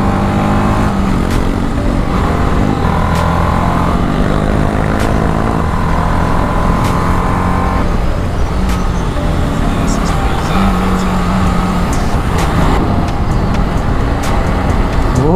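Busy road traffic on a Sunday, heard from a rider's point of view, makes a continuous loud engine rumble with passing vehicles and occasional horn-like tones, while someone talks over it.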